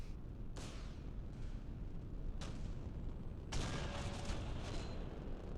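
Missiles strike ships in the Nebulous: Fleet Command space warfare game: a few distant, muffled booming impacts, one sharp burst near the start, another midway and a longer rumbling hit later, all over a low constant rumble.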